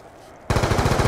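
Rapid automatic gunfire from a gun in Black Ops 3 bursts in abruptly partway through and keeps going loud and close in a steady rattling stream.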